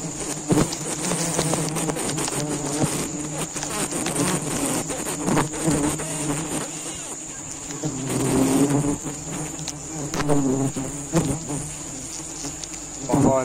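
Wild honey bees swarm around their nest high in a kempas tree on an island, a dense, loud, continuous buzz of many wings rising and falling, with individual bees passing close.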